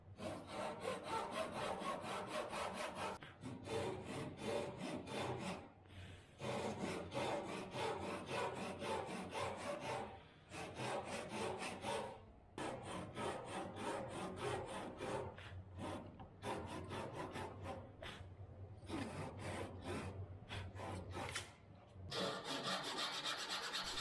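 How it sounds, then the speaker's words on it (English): Hand saw cutting into wood for a DIY workbench stretcher, with long steady back-and-forth rasping strokes in runs separated by short pauses, close and clear, with no voices. "I make these cuts between the lines to weaken the wood so I can take it with the chisel."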